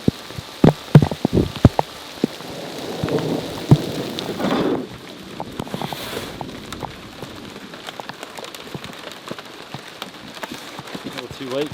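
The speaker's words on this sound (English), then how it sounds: "It is now hailing." Hail comes down hard during an October thunderstorm on a hunting scouting trip. Sharp, loud impacts crack in the first seconds over a steady hiss of falling ice and rain, then thinner scattered ticks continue.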